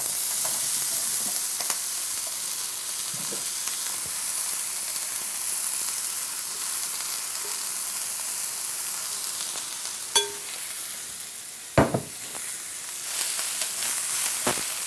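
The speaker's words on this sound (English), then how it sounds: "We'll stir fry this for 6 to 8 minutes until the vegetables are tender yet crisp" Marinated vegetables stir frying in a very hot skillet or wok, a steady loud sizzle and hiss throughout, with a few sharp scraping clatters near the end and no talk.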